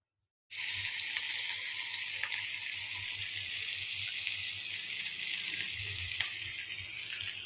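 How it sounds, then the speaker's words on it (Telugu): Fish frying in a pan of oil, a steady close bright sizzle that starts abruptly and continues unbroken for about seven seconds, with faint clinks of stirring. "ఆయిల్ ఎక్కువ వేస్ట్ అవ్వకుండా ఇలా కూడా చేపలు ఫ్రై చేసుకోవచ్చు"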